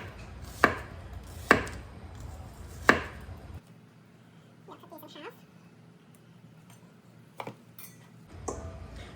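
Knife chopping onions and peppers on a cutting board for pickles, three sharp evenly spaced chops followed by lighter taps and a few scattered knocks, close by, with someone talking.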